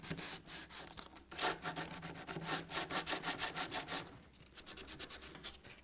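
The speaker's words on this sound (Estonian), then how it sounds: "nüüd lihvpaberiga samuti lihvime siis need alles jäänud väiksed kitijäägid siit maha" Sandpaper scrubs leftover putty off an old window frame during restoration, making rapid rhythmic back-and-forth rasping strokes up close, with a short pause before another quick burst.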